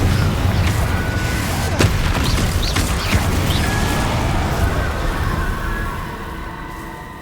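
A Confringo fire blast spell from Hogwarts Legacy, heard as several deep booming blasts and crackling impacts over a continuous low rumble, with thinner whooshing effects layered on top.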